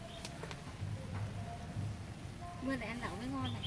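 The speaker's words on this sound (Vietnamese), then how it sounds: "Mưa thế nhỉ?" Rain falling outdoors during a fishing trip, a soft continuous patter under the scene, with a voice speaking quietly near the end and faint scattered sounds around.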